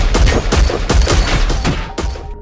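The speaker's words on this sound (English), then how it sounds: "someone started shooting gunshots from a .40S and W Glock 22" Gunshots from a .40 S&W Glock 22 pistol ring out in a rapid string of about seven sharp, loud cracks spaced unevenly, each followed by a brief echoing tail.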